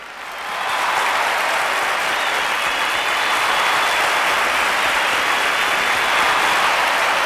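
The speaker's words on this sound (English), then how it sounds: "Give a round of applause to our players," Sustained applause from a crowd, starting quickly and holding steady at a full, loud level throughout.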